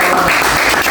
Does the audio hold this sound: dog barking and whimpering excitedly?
no